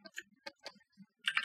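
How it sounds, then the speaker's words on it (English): Mechanical keyboard keys clacking close and crisp, a few separate taps followed by a quick burst of rapid clicks at the end. "Sorry, my mechanical keyboard, probably hear it clicking like crazy."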